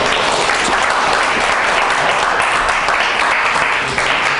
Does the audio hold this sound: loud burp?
no